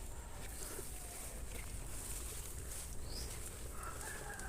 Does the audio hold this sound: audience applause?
no